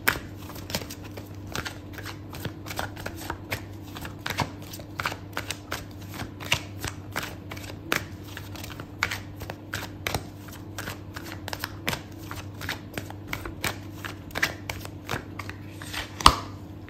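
Tarot cards being shuffled in a steady run of crisp riffling flicks and soft slaps, close and fairly quiet, continuing alone over a low constant background hum with no talking.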